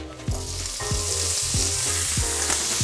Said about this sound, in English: Pancetta into the pan.